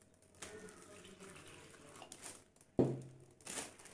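Water is poured from a tap into a doubled plastic bag: a sudden, loud splashing gush starts midway and runs briefly, then a second burst of water follows over quiet room noise.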